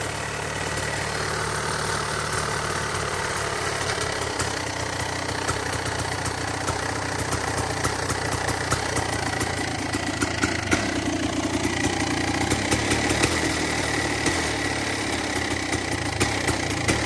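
A Kawasaki KX 500 two-stroke dirt bike, cold-started after sitting for months with a loose exhaust pipe, idles close by in a continuous rattling, buzzing drone with uneven, slightly knocking pulses throughout, no talking over it.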